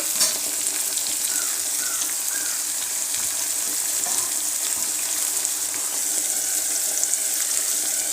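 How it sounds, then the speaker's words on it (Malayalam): Chopped tomatoes fry in a pan with a steady, loud, close sizzle and hiss that holds through the whole stretch, with faint stirring scrapes now and then. "നമ്മൾ തക്കാളി അരിഞ്ഞ് വെച്ച തക്കാളി അതിലേക്ക് ഇട്ടു കേട്ടോ"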